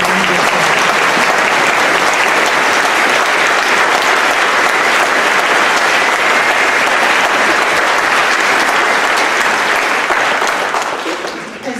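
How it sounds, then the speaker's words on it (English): Sustained audience applause for students at a high school honor band and orchestra concert, loud and dense throughout before tapering at the end, with no speech over it. "would all of the students up here please give your teachers an amazing round of applause?"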